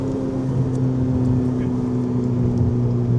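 A Ferrari engine pulling at about quarter throttle, a steady low droning hum with strong tonal bands that holds even and fairly loud throughout, with no sharp revving rise.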